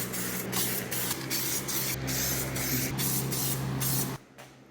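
Primer is sprayed from an aerosol can onto exposed faces of car wheels in steady hissing bursts with short breaks between passes. The hiss stops abruptly near the end.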